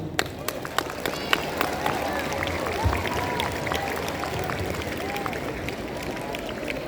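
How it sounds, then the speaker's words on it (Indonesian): Scattered clapping from a crowd gathered for a Monday school flag ceremony, a few distinct claps early on that settle into a softer, continuous patter beneath an amplified voice talking. "Tepuk tangan untuk kita semua."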